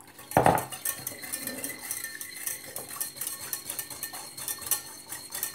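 Sugar and water being stirred in a pan for caramel, with a sharp metal clink of utensil against cookware near the start followed by quieter scraping and stirring, close and moderately loud, with no talk.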